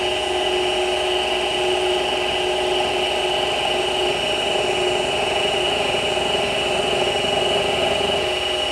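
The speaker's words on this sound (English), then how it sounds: "For the final cut, again, nice finish, doing climb milling" CNC mill taking a final climb-milling finishing pass on a custom XY table clamp setup, a steady continuous machining whine with stable tones, loud and close throughout with no talking.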